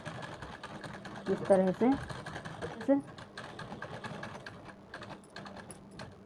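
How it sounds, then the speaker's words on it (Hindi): A sewing machine stitching along the edge of buckram set on cloth, light rapid mechanical whirring running steadily beneath a voice speaking Hindi. "अब हम उसके बिल्कुल किनारे पे जड़ पे सिलाई लगाते हुए ले जाएंगे"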